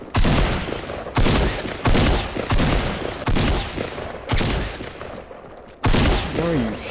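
In an online shooter game, repeated bursts of loud gunfire sound in rapid, dense volleys of about seven clusters, each abruptly starting and trailing off, with faint voice in the background.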